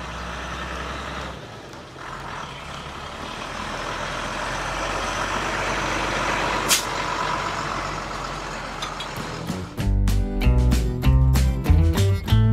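A 4x4 camper truck rumbles with a low engine drone while driven slowly on private ground, then heavier revving and knocking bursts take over toward the end, close and loud.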